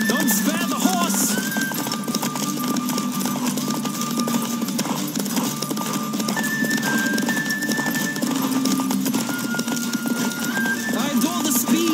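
Rapid hoofbeats clip-clop steadily beneath a layered soundtrack from The Witcher 3: Wild Hunt, with an occasional horse whinny and faint voices in the mix.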